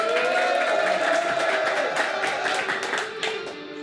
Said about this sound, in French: sous un tonnerre d'applaudissements, Bruno.